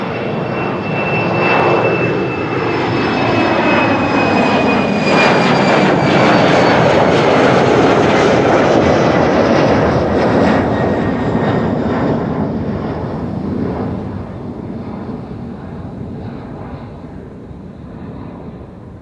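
A Turkish Airlines A330-300 jet takes off at Amsterdam Schiphol, a powerful steady engine roar with high whining tones and crackle, loud throughout before thinning toward the end; no speech.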